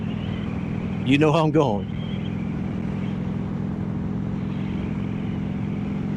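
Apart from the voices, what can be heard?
Indian Scout motorcycle riding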